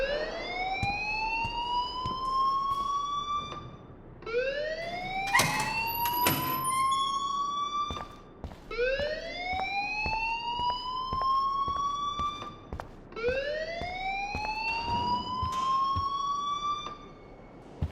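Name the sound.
fire alarm ringing in video game Life is Strange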